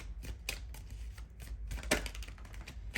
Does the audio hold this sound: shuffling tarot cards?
yes